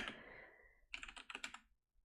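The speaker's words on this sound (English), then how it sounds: "my keyboard is not very cooperative, so I need to type slowly" Slow typing on a computer keyboard, close up: a handful of distinct key clicks in a quick uneven cluster, preceded by a soft hiss and followed by quiet, with no voices.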